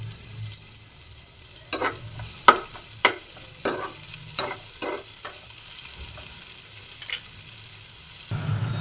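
Chopped onions fry in a pan for a Basan curry, with steady faint sizzling under a series of sharp spoon or spatula scrapes and knocks against the pan, and no talking.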